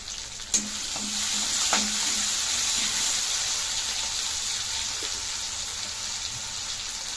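Tomatoes for chana chaat sizzle and fry in a hot pan, with a steady hiss throughout and a few clinks of a spoon stirring near the start.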